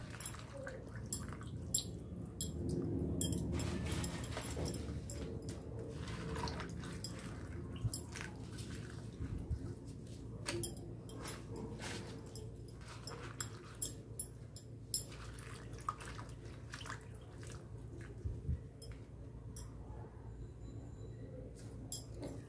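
Cauliflower leaves are swished and rinsed in a bowl of salted water in a home kitchen, making soft, quiet splashes, drips and wet squishes with occasional light clinks, close and faint throughout.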